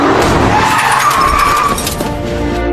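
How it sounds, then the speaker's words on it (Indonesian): A speeding car skids hard just before it strikes a man, giving a loud, sharp tire squeal that lasts a couple of seconds over engine roar. "sebuah mobil melaju kencang langsung menabraknya hingga terpental"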